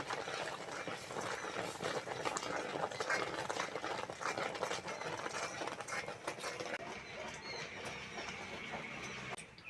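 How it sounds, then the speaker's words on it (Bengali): A metal spoon stirs and mashes boiled lentils for dal in a pot, making a steady wet, scraping and clinking texture with soft squelches, continuous and fairly quiet. "এই চামচ দিয়ে একটু ঘেটে দেবো।"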